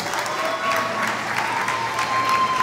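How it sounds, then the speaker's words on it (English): Spectators at a world chocolate bonbon competition final applaud the finalists, a brief, full burst of steady clapping with a faint hint of cheering. "Please give them a big round of applause."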